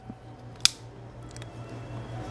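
A car key blade pops into a plastic key fob shell with a single sharp, close click, followed by quiet low hum and faint handling noise.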